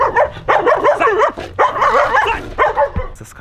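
Dogs bark loudly and close by in several clustered bursts of excited, yelping barks with whimpering tones, separated by brief pauses.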